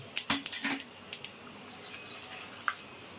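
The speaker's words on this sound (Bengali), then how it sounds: "এবার আমি দেব গোটা গরম মশলা, আর দেব গোটা জিরে, দিয়ে একটু নেড়ে ছেড়ে নেব।" Whole garam masala and cumin stirred in hot oil for a potato and paneer curry: a quick cluster of metal spoon clinks against the pan, then a few sparse, light taps, quiet and close, with no talking.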